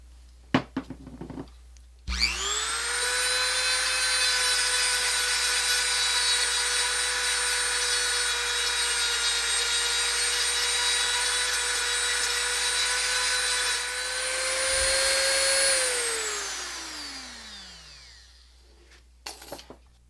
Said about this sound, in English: The last step is to polish the fret with buffing compound.